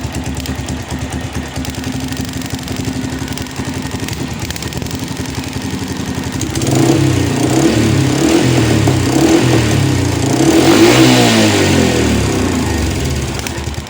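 A motorcycle engine with an ignition fault that dies at high revolution, idling steadily then revving up hard to a loud, sustained high-rpm drone with a wavering tone near the end.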